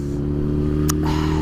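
A Honda CB 125 motorcycle with a red frame, black tank and aftermarket exhaust cans runs steadily nearby, its low engine drone constant, with a brief sharp clatter partway through.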